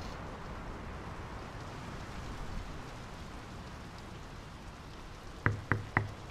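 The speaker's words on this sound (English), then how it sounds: "The rain's picking up." Steady rain hisses in the horror adventure game Draugen, a dense wet wash that swells slightly as it picks up, with three sharp knocks sounding close together near the end.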